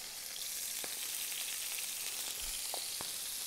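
Smashed burger patty and entrecôte sizzle in a frying pan, a steady, quiet hiss of fat with a few soft clinks, and no one speaking.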